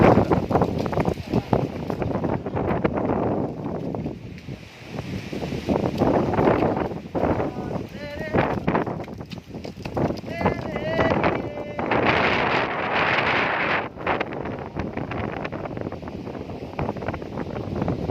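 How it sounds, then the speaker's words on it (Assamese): Strong wind on the Parbati hills at Boko, Assam, buffets the microphone in steady, loud gusts for the whole stretch, with voices faintly mixed into the roar. "বহুত বতাহ বলি আছে বৰষুণ দিব"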